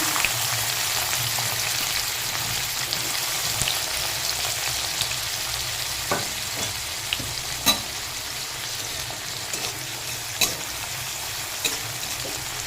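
Chopped onions fry in mustard oil with panch phoron, a steady close sizzle with occasional sharp pops and a few spoon scrapes, no voices.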